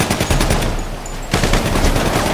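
Rapid automatic gunfire rattles in a movie shootout, loud dense bursts of shots that pause briefly midway and then resume just as fast and close.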